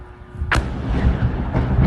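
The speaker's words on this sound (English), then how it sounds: "we also saw that once again explosions were occurring within the area in these two clips right here" A loud explosion in Erbil bursts out sharply, then leaves a heavy, rolling low rumble. A fainter second thump follows about a second later.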